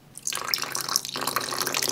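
Water pours in a bright, splashing stream into a chicken breading mixture for sisig, pausing briefly before flowing again, close and fairly loud with no talking.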